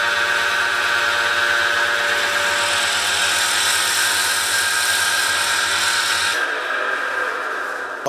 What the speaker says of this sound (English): So what I'm going to do now is to drill a 20 millimeter